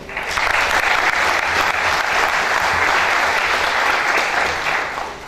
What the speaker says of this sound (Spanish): un cálido aplauso para él